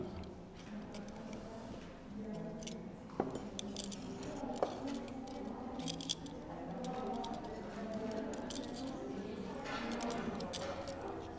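Ingredients mixed in a bowl in a restaurant kitchen, with light clinks and taps of utensil against the dish over a soft, steady background, close and fairly quiet.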